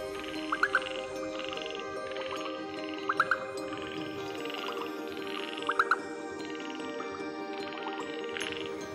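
Chinese flying frog calling in repeated short bursts of paired chirping croaks every few seconds over a steady insect and night chorus backdrop.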